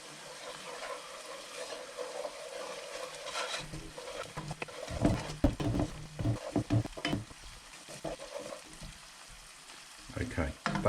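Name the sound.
stirring tomato sauce in a pan over low heat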